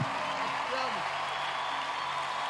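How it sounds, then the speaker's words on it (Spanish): Audience applause at a live Christian worship concert, heard as a dense wash of clapping and crowd noise under a brief sung or spoken voice at the start, holding steady throughout. "Dale ese aplauso al Espíritu Santo en esa noche."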